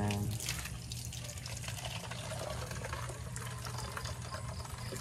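Tap water runs steadily into a container for watering flowers, a constant rushing splash filling the whole stretch with a low hum beneath it.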